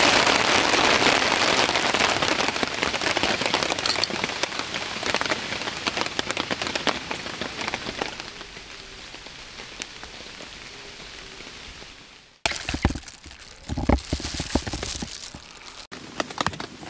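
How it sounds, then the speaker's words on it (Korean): Rain falls on a camping tarp during a wet-weather campout, a dense, steady patter that is loud at first and then softens, followed by an abrupt shift to uneven, closer bursts of drumming drops. "떨어지는 빗소리는 좋긴 합니다"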